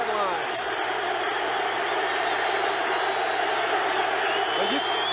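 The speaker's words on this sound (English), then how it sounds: "This crowd is really making a lot of noise." A packed football stadium crowd roars during a 1983 NFL game between the Cleveland Browns and Detroit Lions in Detroit, a constant loud broadband din with occasional whistles and yells, continuing steadily throughout without pause.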